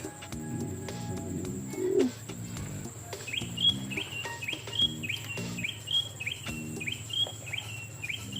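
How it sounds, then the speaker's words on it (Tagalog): A bird repeats a bright, short chirping song in a steady series, accompanied by cooing and insect-like trills in an outdoor setting. "Buti na ganda ng ibon. Ganda kumanta."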